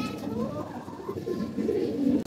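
Domestic pigeons coo steadily close by, a low, rolling, throaty murmur that continues without a break throughout.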